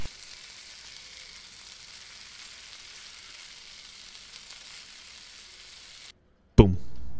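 An egg frying in a pan in the video game Cooking Simulator gives a steady, soft sizzle for several seconds, then cuts out briefly before a sharp clatter and a renewed sizzle at the end.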